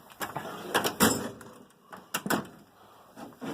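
A drawer on a US General 44-inch tool box opens with a few sharp clattering bumps and rolling slides, close and fairly loud in a quiet garage, with no talking.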